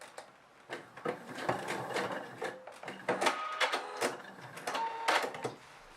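Sewing machine stitching the waistband of jeans with a straight stitch, running in short irregular bursts of rapid mechanical clatter, close and fairly quiet, with pauses between runs.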